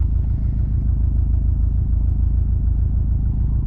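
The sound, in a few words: Subaru STI engine starting up, rough idle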